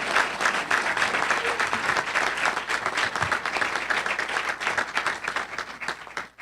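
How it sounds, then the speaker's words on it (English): Audience applause for a teacher at a governor's event on teacher pay, dense and sustained clapping from a large crowd that fades out at the end. "Let's give Pam a round of applause."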